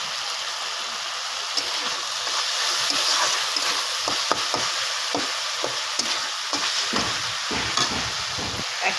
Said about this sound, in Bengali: এখন এটা আমি 5 মিনিটের মতন কষিয়ে নেব।